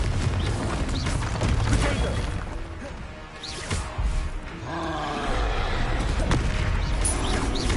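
In Hogwarts Legacy, fiery Confringo blasts and other combat spells burst in a dense, loud run of explosive crashes, booms and whooshes, with a short lull in the middle and a voice briefly calling out amid the noise.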